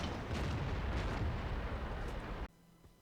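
Tank cannon fire and shell impacts in World of Tanks, played in a Pz 58 Mutz: a dense run of booming, rumbling blasts that stops abruptly, leaving near silence.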